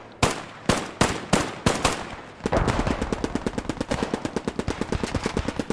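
Machine gun fire in the video game Post Scriptum: a few spaced loud bursts, then a long fast rhythmic string of close shots, no talk.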